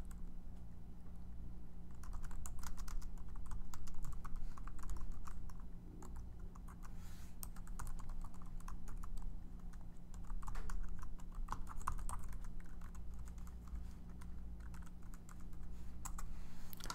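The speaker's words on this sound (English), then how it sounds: "I am going to type in some HTML and JavaScript." Steady computer-keyboard typing of HTML and JavaScript code, a continuous run of close, rapid key clicks over a low constant hum, with no talking.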